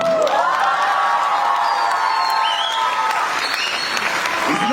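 Loud, steady audience applause with some cheering fills a Hindi comedy poetry gathering (hasya kavi sammelan), dense clapping sustained throughout with scattered whoops near the end.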